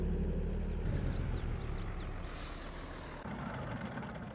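A truck in Farming Simulator 22 pulling out, with a low rumbling engine, a hiss of air brakes releasing and a faint reversing beep, heard close and alone.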